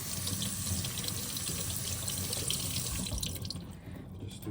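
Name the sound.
water running from a tap for sharpening stone honing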